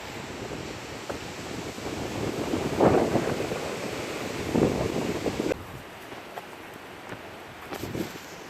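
Wind blowing hard outdoors and buffeting the microphone in rough, surging gusts that swell and then drop off toward the end.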